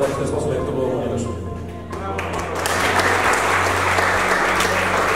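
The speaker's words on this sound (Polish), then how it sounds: "Wielkie brawa, wielkie brawa." Steady crowd applause at a speedway farewell for a departing rider fills the whole stretch, dipping briefly then swelling louder, with a voice speaking over the clapping at the start.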